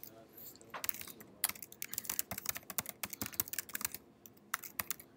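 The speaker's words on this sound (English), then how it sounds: "Can't see what I'm typing." Rapid, irregular clicking of computer keyboard keys in bursts, close and fairly quiet, with a voice speaking faintly at times.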